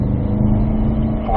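A Cadillac CT5-V Blackwing pulling hard on a race track in third gear, its engine a loud, steady close-up drone with no talk over it.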